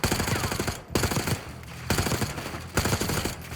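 Rapid automatic gunfire in a Black Ops 6 cutscene, several loud sustained bursts of close machine-gun fire separated by brief pauses.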